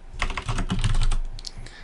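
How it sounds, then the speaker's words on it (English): Rapid keystrokes on a computer keyboard during setup of Ubuntu Desktop, a dense run of close, crisp clicks lasting under two seconds with no talking. "you can test to see if the keyboard is correct by just typing some things in the field"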